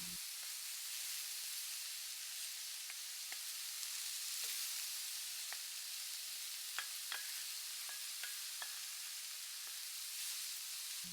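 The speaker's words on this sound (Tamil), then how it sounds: "நம்ம ரெடி பண்ணி வச்ச கார்லிக் கிறிஸ்பையும் இதோட சேர்த்திடலாம்." Rice with mixed vegetables and garlic crisps is stir-fried in a pan over a lowered gas flame, giving a soft, steady sizzle broken by scattered clicks and scrapes of the spatula, with no talking.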